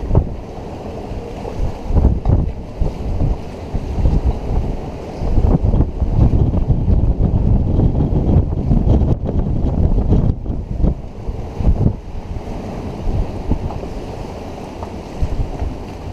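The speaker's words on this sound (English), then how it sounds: "That's strong wind." Strong wind gusting at the Key West mooring field, roaring and buffeting loudly against the microphone in uneven surges, with a low rumble of water and boat underneath.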